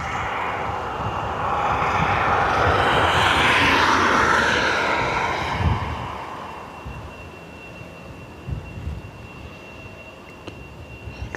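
An Aer Lingus Airbus A320 passes at Dublin Airport, a jet engine roar swelling to a peak with a rising whine, then fading into a low rumble with scattered handling bumps.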